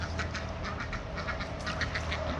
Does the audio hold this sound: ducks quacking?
yes